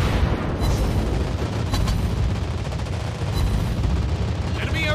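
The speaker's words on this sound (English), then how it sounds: "Anti-aircraft gun on full alert!" Anti-aircraft guns blaze aboard a Dutch premium destroyer, the Friesland, in World of Warships Blitz, a dense continuous roar of rapid fire and booms lasting throughout, loud and close, with faint voice cues underneath.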